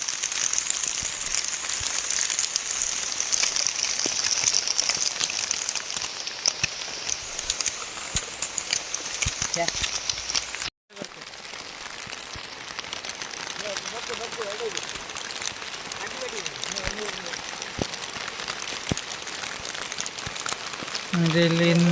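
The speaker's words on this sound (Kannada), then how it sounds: "ನೋಡಿದೆ ಫುಲ್ಲು ಹೆವಿ ಮಳೆ ಬರ್ತಿದೆ, ನಿಲ್ತಾನೆ ಇಲ್ಲ ಮಳೆ." Heavy rain falls steadily and densely during a Deepawali festival outing, a constant loud hiss with scattered drips that briefly cuts out midway and then continues.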